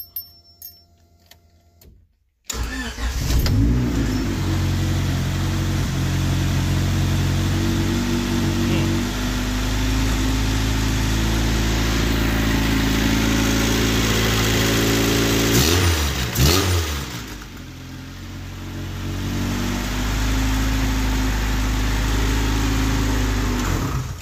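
A hatchback car engine fires up from a cold start with its exhaust not fully bolted down, cranking briefly after near silence and then idling loudly with a rough, steady rumble, dipping once before settling back to a constant idle.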